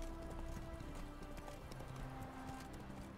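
Horse hooves clip-clopping in a quick, even rhythm in The Witcher 3 video game, faint and distant under a busy background of game ambience.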